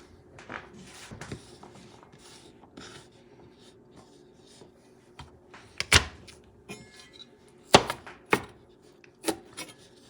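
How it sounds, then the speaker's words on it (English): A knife chops food into rough chunks on a cutting board, giving irregular sharp knocks that come sparse at first and then as a few louder, distinct strikes. "Cut them some chunks."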